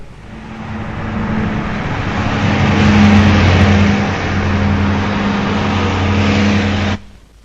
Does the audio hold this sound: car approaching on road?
yes